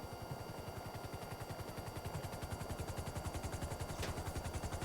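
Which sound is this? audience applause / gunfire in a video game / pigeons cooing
gunfire in a video game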